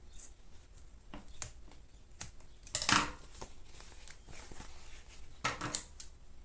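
Scissors trimming the excess end of a zipper on a fabric trapezoid pencil case, a few crisp close snips and clicks scattered over several quiet seconds, with no speech.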